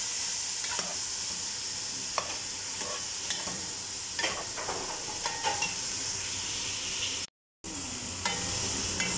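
Shrimp sautéing in a hot pan for Filipino ginataang gulay, with a constant loud sizzle and scattered scraping stirs. A brief silent gap comes near the end and there is no talking.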